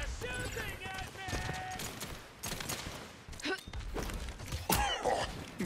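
Gunfire in the Paladins shooter game, a dense stream of sharp shots and impacts layered with effects and music, with a voice speaking in places and louder bursts near the end.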